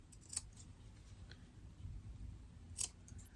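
Scissors snipping off excess fabric while sewing a small baby tooth pouch, a few faint, brief clicks of the blades in a quiet room.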